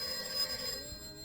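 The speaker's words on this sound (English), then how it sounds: "There's quite a lot of phone ringing at the top of this." Telephone ringing in a domestic kitchen scene of a radio play, a short, faint electronic ring that stands alone with no one speaking.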